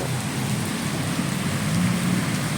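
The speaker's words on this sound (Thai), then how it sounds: "ตอนนี้ฝนอยากเบาแล้วครับ ฝนเริ่มจะหยุดแล้ว" Light rain falls steadily onto a flooded road in Samut Sakhon, Thailand, a dense even hiss close by with faint low rumbling beneath, no voices heard.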